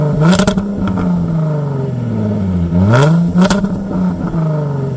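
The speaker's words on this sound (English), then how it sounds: "the sounds of this car, you know, the motor, the exhaust, all of it" A Jaguar car's engine and exhaust rev up and drop back repeatedly, a deep throaty roar rising and falling close by, with sharp crackles from the exhaust and no voices.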